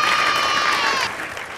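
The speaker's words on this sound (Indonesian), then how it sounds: "Tepuk tangan boleh kali." A short burst of applause from an audience on a children's handmade-crafts drama show, steady clapping that drops a little in level near the end.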